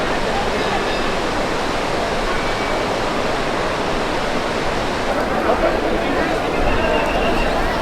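The wild, swollen Ganga river at its source in the Himalayas rushes loudly in a steady, dense roar that fills the whole scene with unbroken churning water.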